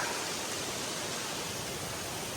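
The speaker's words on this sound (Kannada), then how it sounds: "ಮೇಲ್ಗಡೆ ಬಂದರೆ ನೋಡಿ ಫಾಲ್ಸ್ ವಾಟರ್ ಫಾಲ್ಸು" On the Brahmagiri trek in Maharashtra, a waterfall makes a faint, even hiss of rushing water, steady and distant, with no other sounds on top.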